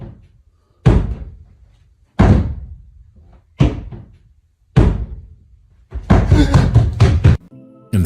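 A basement door slams four times in a slow, uneven series of loud, close impacts, each one ringing out and decaying. A longer stretch of rattling, banging commotion follows at the end.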